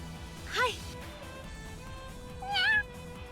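Two short cat meows from a character in the PC game Trails of Cold Steel, about two seconds apart, sitting over steady game music, with brief bits of speech.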